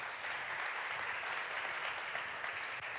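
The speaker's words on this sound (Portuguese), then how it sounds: "Uma salva de palmas para a sua vida e para a glória de Deus." A church congregation applauds together during a worship service of healing and deliverance, a dense, steady wash of many hands clapping at even loudness for the full three seconds, with no voices standing out.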